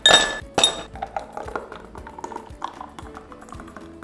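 A spoon clinks against a glass while sugar is stirred into aam pora shorbot, a roasted green mango drink: two bright loud clinks open, followed by a quicker run of softer taps as the stirring continues.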